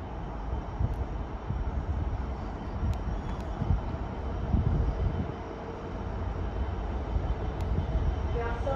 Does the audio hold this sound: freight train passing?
yes